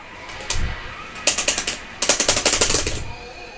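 Rapid clattering hits from a fighting game's XC Zoink Knuckle cancelled into a rev blow, arriving in two quick bursts of sharp, ratcheting impacts after a low thump, close and fairly loud with no talk.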